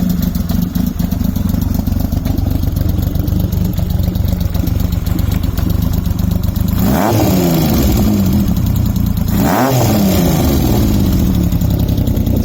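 A 1980 Yamaha XS750 motorcycle idles with a steady exhaust burble, then two sharp throttle blips at quarter throttle swell and fall away, close and loud throughout.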